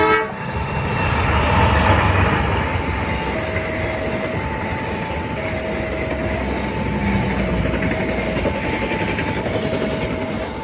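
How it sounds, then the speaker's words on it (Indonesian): The Bangunkarta passenger train from Jombang to Pasar Senen, hauled by a Sprinter locomotive, rumbles steadily past nearby with rolling wheel clatter while a horn sounds in a repeated pattern of short toots. "Sudah kelihatan KA Bangun Karta Jombang Pasar Senen menggunakan lokomotif"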